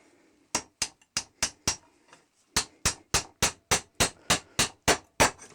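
A hammer strikes a wooden dowel driven through a dowel plate held in a vise: five sharp knocks, a short pause, then a steady run of about eleven more evenly spaced, close, crisp blows.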